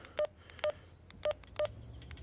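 A PMR446 DMR handheld radio powering on gives four short, evenly pitched electronic beeps in quick succession, clear and close against a quiet background.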